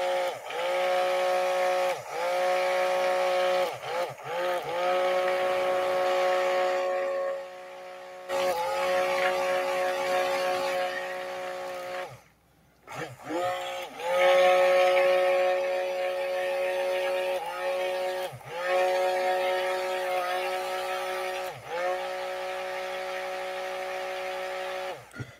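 A mixer blends a vegan handmade solid dish soap batter made with lye and orange oil. The motor whines steadily and fairly loud, pausing and restarting now and then over a long stretch.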